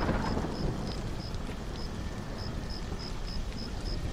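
Thunderstorm in the video game Stranded: Alien Dawn, steady dense rain hiss with a continuous low rumble, and small regular chirping blips repeating above it throughout.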